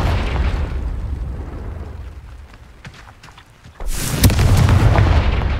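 Confringo blasting spell in the Hogwarts Legacy video game: a sudden loud, booming explosion bursts in after a stretch of rumbling noise and sustains a heavy roar to the end.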